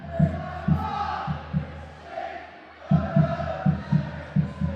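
A football crowd at Goodison Park singing a team song together, a massed chant rising and falling, punctuated by rhythmic thumping beats from the stands, with a brief lull partway through.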